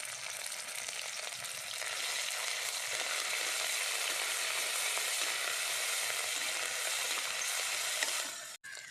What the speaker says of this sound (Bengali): এর মধ্যে সেদ্ধ করা লঙ্কা রসুন ও পেঁয়াজ বাটা দিয়ে দেবো